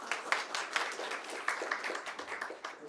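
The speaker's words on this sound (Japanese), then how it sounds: "じゃあ拍手で" Audience applause for a presenter at a TensorFlow user group meetup, a dense steady patter of many hands clapping close by, continuous throughout with no talk.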